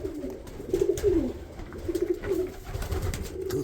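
Pigeons cooing in a loft housing breeding pairs and young birds, soft repeated low coos in two or three phrases, close and alone.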